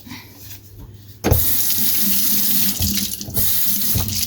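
A kitchen tap bursts on and runs in a steady, close gush as gloved hands are washed under it before making lemonade, the flow wavering briefly as the hands move through it.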